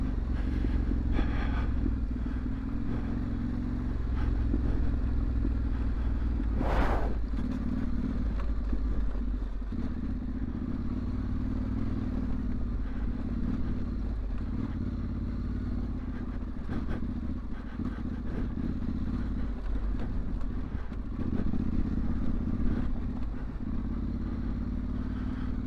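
A Yamaha Tenere World Raid motorcycle rides off-road in Wales, its engine holding a steady, loud low drone throughout, with occasional clatter and wind buffeting over the rumble.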